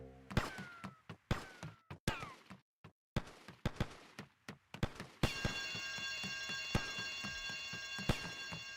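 An alarm in Grand Theft Auto: Vice City rings steadily after a series of sharp hits and thuds, its continuous tone sustained over the remaining seconds amid occasional impacts.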